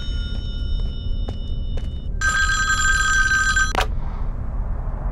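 A telephone rings inside a cabin in the Friday the 13th video game, with a few short electronic bell tones and then one longer, loud, sustained ring that cuts off sharply, over a low steady background rumble.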